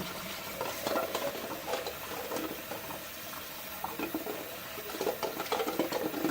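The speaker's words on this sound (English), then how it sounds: "I turn on the cold water and I blast it." Cold tap water blasts onto freshly boiled eggs in a pot, a loud continuous rushing splash with irregular bubbling and clinks, close up and without talking.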